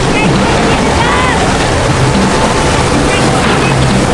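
Boat noise on the water mixes with rushing wind and splashing, loud and constant, while a voice talks over it.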